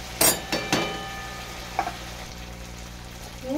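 Spice masala sizzles softly in oil in a pan while vegetarian cabbage ghonto is cooked, with a few sharp clinks of stirring near the start and a steady low frying hiss after.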